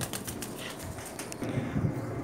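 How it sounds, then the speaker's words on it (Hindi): Racing pigeons from a flying loft coo softly and flap their wings in short bursts, nearby and moderately quiet, with no talking. "ये उस्ताद माज़न अल मतेरी साहब के वो कबूतर हैं जो बाजियों में उड़ते रहे हैं।"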